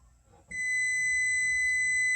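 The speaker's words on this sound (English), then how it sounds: "As you can hear by the buzzer, the bread is ready now." An oven timer buzzer sounds as the bread finishes baking, a steady, loud electronic tone that starts abruptly after a quiet moment and holds continuously to the end.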